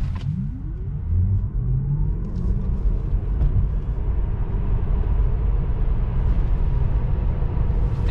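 Rear-wheel-drive Tesla on Michelin summer tires in 2-degree cold launching and driving, a rising electric whine over a broad road and tire roar that stays loud and steady throughout.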